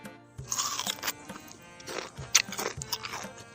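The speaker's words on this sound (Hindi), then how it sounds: "इतना स्वाद, इतना कुरकुरापन पहले कभी नहीं खाया" Crispy fried chicken leg crunched between the teeth, close and fairly quiet: several sharp crunching bites followed by crackly chewing, alone without talk.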